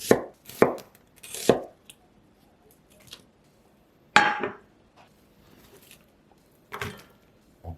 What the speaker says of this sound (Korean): 양파 반 개는 채 써시고요